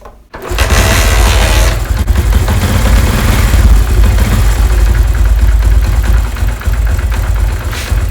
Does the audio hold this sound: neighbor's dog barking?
no